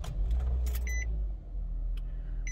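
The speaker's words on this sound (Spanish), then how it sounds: "Cerramos la llave y lo prendemos." A 2018 Nissan Sentra with a 1.8L engine is started with the key: a steady low rumble of the idling car runs throughout, with brief jingling and clicking of keys near the start and again late.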